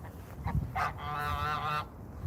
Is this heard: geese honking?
yes